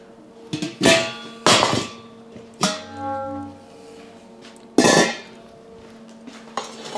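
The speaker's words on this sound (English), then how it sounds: "We're gonna get this baby added to our beautiful roasting pan." A prime rib roast is set into a metal roasting pan with a wire rack, giving a series of separate metallic clanks and knocks, one ringing briefly, with quiet gaps between them.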